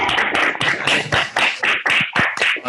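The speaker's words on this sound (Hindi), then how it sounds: "ताली बजाओ।" A group of children clap together during an online class, a dense run of overlapping hand claps in uneven bursts, fairly loud and close through the microphones, with no talking.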